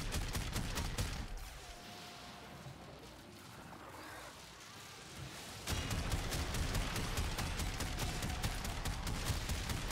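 Rapid automatic shotgun blasts in a video game, a dense continuous barrage of loud booming shots that eases off briefly in the middle before resuming at full intensity.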